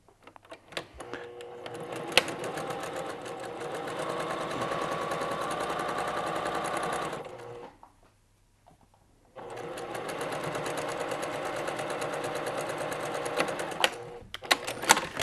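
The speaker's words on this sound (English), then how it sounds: "I'm going to sew these in so that we have at least 2 complete rows to show you." Sewing machine stitching hexagon quilt pieces, a steady rapid mechanical chatter running for about seven seconds, a short pause, then another long continuous run, close and moderately loud.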